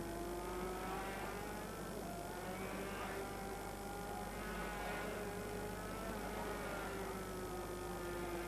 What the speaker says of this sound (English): Just listen to the engine noise.